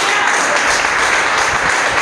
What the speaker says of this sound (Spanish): denle un aplauso fuerte, fuerte a Cristo